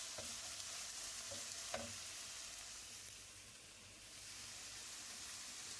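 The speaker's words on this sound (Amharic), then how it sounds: "ሽንኩርቱን ዘይቱን ከነጭ ሽንኩርት ጋር አንድ ላይ ጥብስ ካረኩት በኋላ" Onion and garlic frying together in oil for a beetroot dish, giving a steady close sizzle with a few soft stirring clicks, and no voices.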